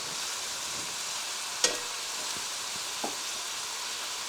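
Chicken being stir-fried in a non-stick wok gives a steady broadband sizzle, with one sharp clack of a utensil against the pan and a softer knock later, no voices.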